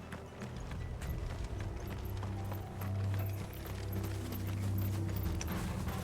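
Horse hooves clip-clopping in Final Fantasy 16, a steady rhythmic clatter mixed with mechanical ratcheting under a low droning game soundtrack.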